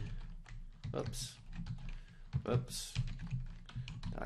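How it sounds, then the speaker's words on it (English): Soft clicks of typing on a computer keyboard come in short irregular bursts, fairly quiet and close, while a voice talks intermittently over them. "But since it's me, I will type my name."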